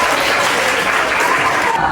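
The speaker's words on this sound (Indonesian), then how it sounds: "Oke, tepuk tangan buat kita." A group of participants at a coaching session claps together, a loud, dense, continuous burst of applause that fills the whole short moment.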